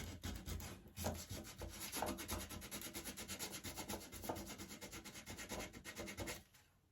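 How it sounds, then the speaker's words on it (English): Hand sanding a wood end table with 80 grit sandpaper: continuous rapid back-and-forth rasping strokes, close and steady, with no talking. "So we're gonna sand around this too"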